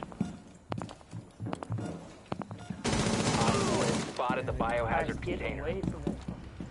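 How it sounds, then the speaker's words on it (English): Gunfire in a PS4 video game comes as scattered sharp shots, then a dense burst of rapid fire, with a voice talking over the later part. "They're shooting him through the hatch."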